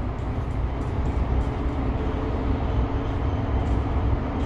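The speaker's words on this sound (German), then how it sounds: "Ganz leicht hinten höre ich ein bisschen was klappern" Interior of a former Bogestra city bus on the move, a steady low engine and road rumble with a faint rattling toward the rear, continuous and fairly loud with no talk.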